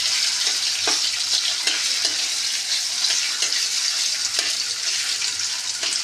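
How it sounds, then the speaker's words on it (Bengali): Paneer sizzles steadily in a hot kadai as it fries for paneer torkari, a continuous bright hiss broken by a few soft clinks of stirring, with no voices. "কড়াইতে পনির দিয়ে দিয়েছি।"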